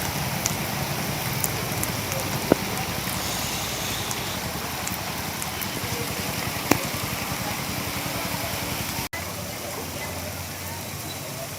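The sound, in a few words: heavy rain falling in Vijayawada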